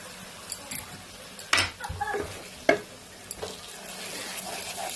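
A spoon scrapes and stirs cashew paste into cauliflower korma in a pan over a low flame, giving a few distinct clinks and scrapes over a soft sizzle, with a voice speaking quietly.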